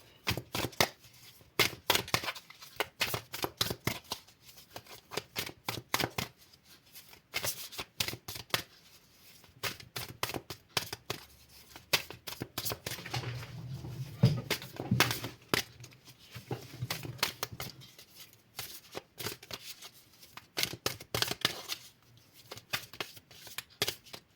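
A deck of playing cards being shuffled over and over in bursts of quick, crisp riffling and flicking, close and fairly loud, with short pauses between rounds and no talk.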